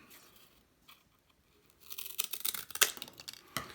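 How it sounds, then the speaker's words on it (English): Quiet at first, then a run of crisp snipping and crunching as scissors cut through cardboard, close up, irregular and growing busier toward the end. "I'm going to take my scissors and I'm going to cut it."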